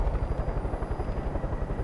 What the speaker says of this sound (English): Please get in the helicopter.